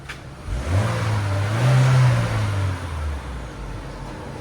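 A 2020 Chevy Malibu turbo idles and revs through its stock single exhaust with the muffler still fitted, a muted low rumble that swells once mid-clip and settles back, quiet and close.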